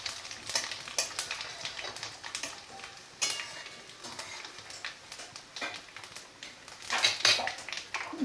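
Ingredients for a methi paneer dish being fried briefly in oil in a pan, with soft sizzling, utensil scrapes and stirring clatter at close range, no talking.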